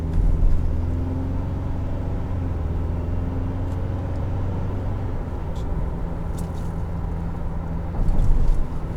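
A 2019 Ford Ranger Lariat, transmission in sport mode, hums from inside the cabin with a steady low engine drone that holds revs, then swells louder near the end.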